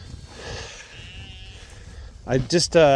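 Sheep on pasture bleat loudly near the end, a couple of clear harmonic calls close by after quieter background sounds.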